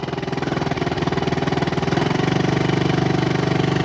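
A small outboard motor on a boat on a reservoir runs loud and close, a rough pulsing engine drone with a rapid, even chug that steps up slightly in intensity midway.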